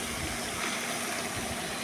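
Water poured into a pan of frying mixed vegetables, a brief, steady rushing hiss at low level.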